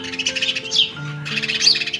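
Pigeons gathered to feed on scattered wheat grain give repeated bright chirps and calls, close by, over a low steady hum with no talk.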